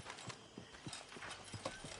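Horse hooves clip-clop in a quick, steady rhythm as the horse is ridden through the Red Dead Redemption 2 game world, the hoofbeats close and clear with no talk over them.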